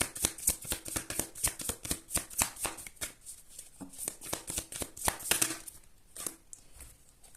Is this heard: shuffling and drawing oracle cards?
yes